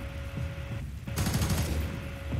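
Rapid gunfire in the shooter game F.E.A.R. 3, a loud close burst of automatic shots with a short lull before the firing resumes and keeps rattling to the end.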